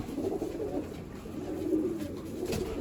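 Pigeons or doves cooing in a low, continuous burbling murmur across the whole stretch, steady and fairly close, with no speech over it.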